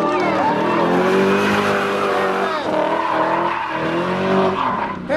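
A BMW E30 344i race car slides sideways at speed in a 2007 Hungarian drift qualifying run, its V8 engine roaring close and steady with tyre squeal and shifting revs, while a commentator talks excitedly over it.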